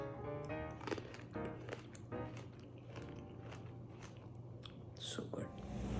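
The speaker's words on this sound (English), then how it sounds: "I want to see if you can hear the crunch." Fresh table grapes bitten and chewed up close in a California home during fall, giving a run of sharp, crisp crunches at an uneven rhythm over a low steady hum.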